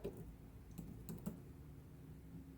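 A command typed on a computer keyboard at a command prompt: a handful of soft, separate key clicks spread over a couple of seconds, faint and close against a quiet background.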